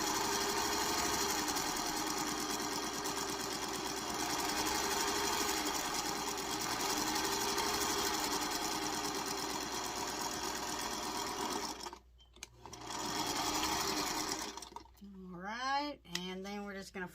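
An old sewing machine stitching a quilt block, running fast in a loud continuous whir for about twelve seconds, then pausing and restarting briefly before stopping as a voice comes in at the end.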